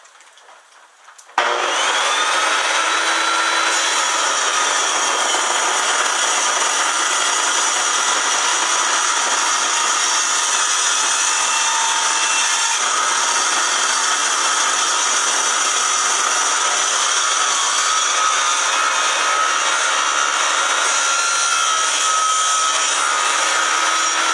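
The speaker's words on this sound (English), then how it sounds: "So let me start by cutting my walnut." A power saw cuts walnut into strips for a segmented bowl, starting after a brief quiet moment and then holding a loud, steady whine and rasp as the blade works through the wood.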